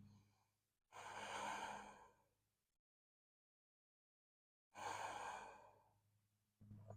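Two slow, deep breaths during a slow yoga flow, each a long audible exhale close to the microphone, separated by a stretch of silence.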